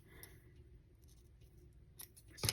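Pinking shears snip through a paper tag in a quiet room, with a few faint clicks and then one sharp, close cut near the end.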